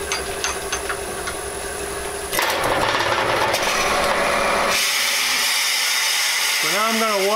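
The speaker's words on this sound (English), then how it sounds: "See how much easier that drills than a Forstner bit." A drill bit bores into wood for a turned lamp base, with a steady whirring grind that shifts in pitch partway through, followed by a rising and falling mechanical whine near the end; no speech over it.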